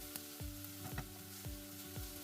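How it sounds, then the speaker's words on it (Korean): Onion and enoki mushrooms stir-frying in plenty of oil in a pan, a constant bright sizzle broken by four evenly spaced spatula strokes, quiet and close with no voices. "팬에 기름을 넉넉히 두른 후 양파와 팽이버섯을 볶아줍니다."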